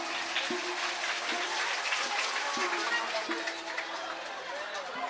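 A large devotional gathering claps steadily in a long wash of applause, with murmuring crowd voices mixed in and a faint tonal hum running underneath.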